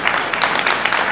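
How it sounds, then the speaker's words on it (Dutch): A brief burst of audience applause at the Paravisie Awards 2012 ceremony, with dense, even clapping from a crowd heard throughout. "een groot applaus voor Sandra Rehmer."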